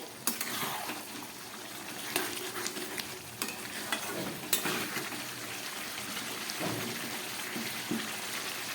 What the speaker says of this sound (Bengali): গ্যাস কম করে প্রায় 10-12 মিনিট আমি খুব ভালোভাবে কষিয়ে নিলাম।